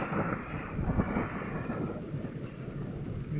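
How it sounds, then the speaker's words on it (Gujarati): Thunder rumbles through a rainstorm in a rural village, a low continuous roll that stays steady and moderately loud for the whole stretch, with no voices over it. "જો હજી ગાજેરો છે"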